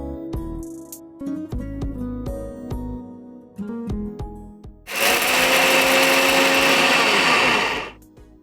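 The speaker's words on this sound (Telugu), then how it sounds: "మనం ఇప్పుడు మిక్సీ వేసుకుందాం." A kitchen mixer grinder grinds roasted gram, chili powder, salt and garlic cloves. Clicks and knocks of the jar being set in place come first, then a loud, steady whirring grind runs for about three seconds before stopping.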